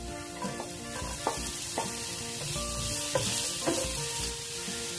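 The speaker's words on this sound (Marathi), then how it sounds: "जिंजर गार्लिक आमचा बरो फ्राय झाला" Ginger and garlic frying in oil in a pan that earlier held fried paneer, a steady close sizzle with a spoon stirring and periodic light clinks against the pan, no voices.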